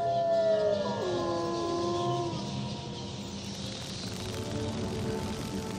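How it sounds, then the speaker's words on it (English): Wolves howling at night in Wizard101's Darkmoor, several long wavering howls overlapping near the start and fading into a low, dark ambient background, distant and eerie with no talking. "In the distance, there is a howling of wolves or savage men."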